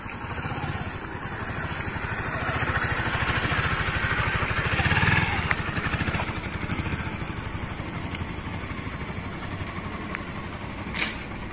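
A Honda CBR150R motorcycle engine runs steadily in a residential yard, a continuous mid-pitched drone that swells slightly around the middle and then settles, heard at moderate distance without talk.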